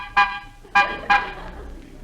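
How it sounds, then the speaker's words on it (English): Three short car horn honks from an old-time radio comedy sound effect, spaced unevenly over two seconds, fairly loud and close with a faint background hiss. "Honk the horn."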